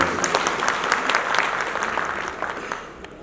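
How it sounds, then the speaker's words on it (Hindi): An audience at a Bhojpuri film launch ceremony claps as a blessing, a burst of fairly loud, dense applause that gradually fades toward the end. "एक ताली बजा के आशीर्वाद है"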